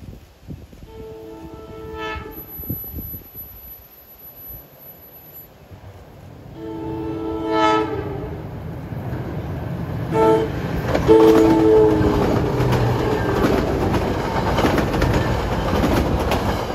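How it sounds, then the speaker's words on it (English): A passenger train running from Summit to Gladstone crosses the Millington High Bridge, sounding its horn in a few blasts as it draws near, then passes close with a rising rumble and clattering wheels, while birds chirp in the background. "Here comes train 721 from Summit to Gladstone."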